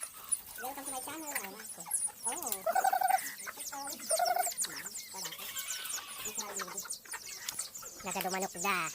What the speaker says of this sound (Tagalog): Papakain kami ng manok ni Bibi.